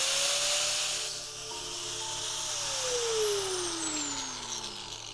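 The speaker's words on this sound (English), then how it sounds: "So you just kind of like cut through the bolt?" A power tool saws through a ball joint bolt on a crashed BMW's damaged front suspension, a loud continuous grinding whine with a pitch that slowly falls as the cut progresses, steady and close for about five seconds.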